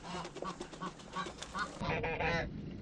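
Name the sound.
geese honking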